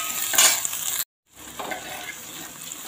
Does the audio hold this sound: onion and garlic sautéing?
yes